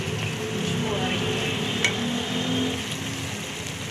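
Dal mash masala fries in a pan with a continuous, even sizzle and a faint click partway through.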